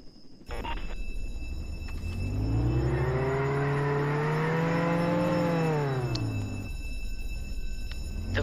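A car in the Roblox game Jailbreak drives off, its engine rising in a steady rev that holds strong for several seconds and then winds down, loud and close with no talk.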